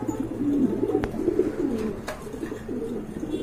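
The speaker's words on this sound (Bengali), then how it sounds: "এটা হচ্ছে আপনার মাদি কবুতর, এটা শৌকিং এর মাদি কবুতর।" A female pigeon coos at a pigeon market, low, soft, rolling calls repeating close by, with a couple of sharp clicks and faint background noise.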